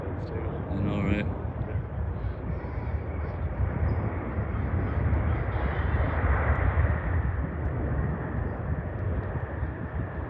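Boeing 767-300ER airliner passing at SFO, a broad, steady jet roar that swells and fades gently over ten seconds, with people chatting nearby throughout.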